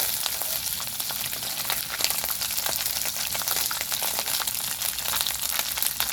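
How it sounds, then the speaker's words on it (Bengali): Mourala fish frying in hot oil in a pan, a steady close crackling sizzle with occasional sharper pops, continuous throughout and no talking. "আরও এক পিঠ এভাবে উল্টে ভেজে নেব"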